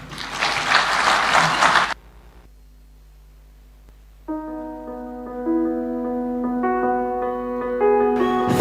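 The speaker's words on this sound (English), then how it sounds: "Another beautiful round of applause to His Excellency." Audience applause at the launch of the Teachers Service Commission strategic plan bursts loudly for about two seconds, then cuts to near silence before sustained musical tones take over.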